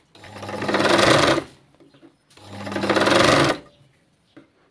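A sewing machine stitches a katori blouse in two loud bursts of rapid mechanical chatter, each about a second long and separated by a short pause, with small clicks afterward.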